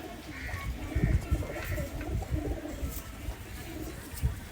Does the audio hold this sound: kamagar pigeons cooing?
yes